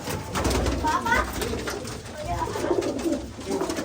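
Pigeons of Teddy and Chapda breeds coo softly in repeated low burbling phrases at close range, with a background murmur of people talking nearby.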